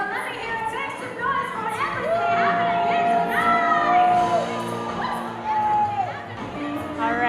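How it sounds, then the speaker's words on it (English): A crowd at a live art battle in the Canadian championships cheers and whoops, with shouts and high whistles rising over steady chatter and a voice talking over the noise. "The crowd is going wild for these artists."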